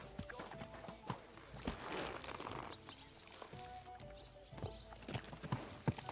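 Horse hooves clip-clop at a walking pace in the video game Kingdom Come Deliverance 2, a steady rhythm of soft thuds with faint surrounding ambience and occasional louder knocks.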